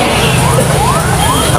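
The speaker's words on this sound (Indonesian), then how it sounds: "Ambulan ya." An ambulance siren wails on a street with repeated rising sweeps, loud and continuous over a traffic din.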